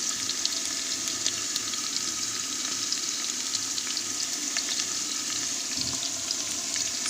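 Ginger garlic paste fries in a large pan for biryani, giving an even, close, continuous sizzle with fine crackling and faint stirring, no talking.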